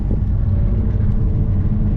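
A 7th-generation Nissan Maxima's engine hums in a low, steady rumble during a test drive, a constant broadband drone with no voices over it.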